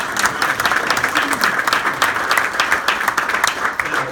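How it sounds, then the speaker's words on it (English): A class reunion crowd gives the organizing committee a hearty round of applause, loud and dense clapping from many people that holds steady for several seconds without talk. "Let's give them another round of applause."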